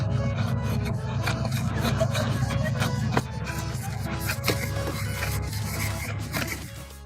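A knife steadily rasps and scrapes as wooden axles for a toy wheelbarrow are carved, a continuous close rubbing texture with small shifts in stroke, no talking.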